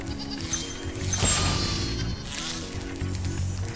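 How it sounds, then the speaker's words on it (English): A sheep in Spyro the Dragon on PS4 gives a short, wavering bleat in the middle, over background game music and effects. "That was a very glitchy sheep."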